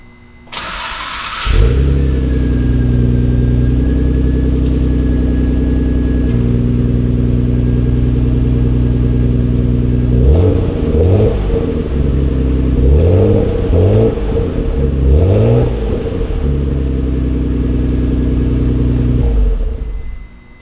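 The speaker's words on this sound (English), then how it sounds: "let's give the car a start" A 1996 Nissan Skyline GT-R V-Spec LM engine cranks and catches, settles into a steady idle, then revs up several times in short bursts before dropping back to idle.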